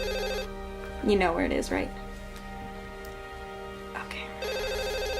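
A telephone ringing in a quiet indoor room, shown as a steady repeating ring at the start and again near the end, with a short line of speech between the rings.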